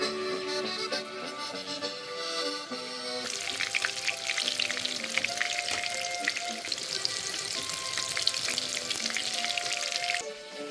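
Cutlets sizzle and crackle in a frying pan, a steady close hiss with popping bursts that runs for several seconds under melodic background music, with no talking.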